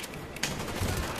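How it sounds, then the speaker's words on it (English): A few sharp pistol shots crack in Call of Duty: Black Ops, one louder report standing out in a brief, noisy stretch of game sound without talk. "Just gonna use the fucking pistol."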